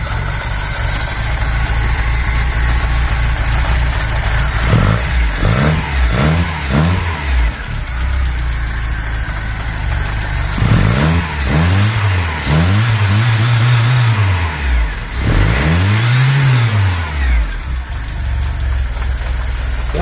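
A VW Polo 86c petrol engine with a carburettor and automatic choke idles roughly and unevenly, then revs up several times in quick rising-and-falling bursts, loud and close, with no talk.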